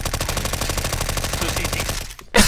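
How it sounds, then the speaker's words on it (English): Submachine gun fire in CS:GO: a long, rapid, even burst of close, loud shots that stops abruptly, followed by a brief sharp noise. "Case in point, our SMGs are superior."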